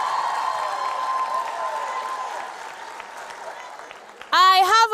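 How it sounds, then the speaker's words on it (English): Audience applause at a stand-up comedy show, a wash of clapping and cheering that gradually fades, before a loud voice breaks in near the end. "Clap, please."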